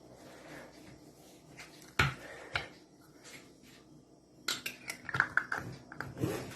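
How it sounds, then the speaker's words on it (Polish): Glass jam jars of oven-baked plum preserve being wiped at the threads and having lids screwed on, giving sharp clinks and scraping metal-on-glass clicks scattered irregularly, with a cluster of quick taps near the end, close by and with no talk. "Teraz będziemy czyścić gwinty, zakręcać słoiczki."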